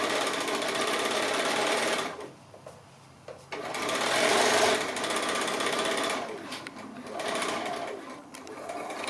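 A sewing machine back-stitching cork fabric for a card wallet gives a loud, close, steady mechanical whirr. It runs in two bursts separated by a short pause.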